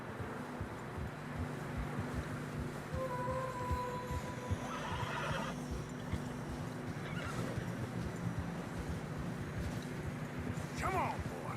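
Horses whinny in the middle of a constant wind-like rumble, with hoofbeats and murmuring voices underneath, on a snowy narrow trail in the Red Dead Redemption 2 video game.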